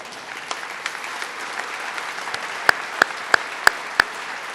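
Scattered applause for a county commissioner at a downtown revitalization announcement in Rome, New York, with a few loud, sharp claps standing out over a steady crowd murmur.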